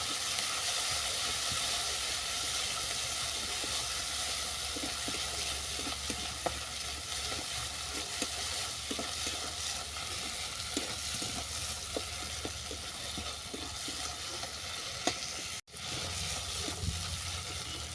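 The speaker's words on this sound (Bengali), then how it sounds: "দিলাম স্বাদ মতো চিনি এটাকে ভালো করে কষিয়ে নেবো" A spice paste with sugar sautés in a pan for a vegetarian badam posto potol dish, with steady sizzling, soft scraping stirs and a constant hiss running unbroken, and no talk over it.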